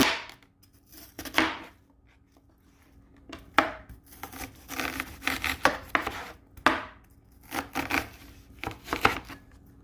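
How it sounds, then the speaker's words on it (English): An onion being chopped on a board for Italian tomato sauce, a series of close, crisp knife strikes in irregular clusters with brief quiet pauses between them. "So I'm going to chop an onion and fry it."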